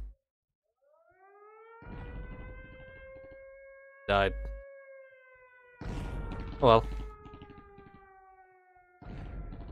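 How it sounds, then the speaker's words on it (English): A continuous wailing siren in a level of the video game Blood, rising and sustained across the clip, with loud bursts of gunfire or explosions cutting in and someone speaking briefly. "That siren."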